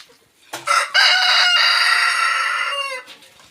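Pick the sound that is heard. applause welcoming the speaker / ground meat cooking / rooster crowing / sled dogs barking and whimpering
rooster crowing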